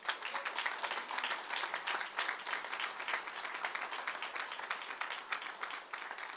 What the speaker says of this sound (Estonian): me võime teha neile ühe võimsa aplausi praegu